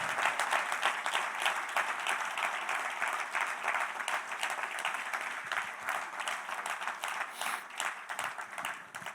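Sustained, loud applause from a church congregation praising the Lord during a Spanish-language service, a dense steady wash of many hands clapping with no voices over it.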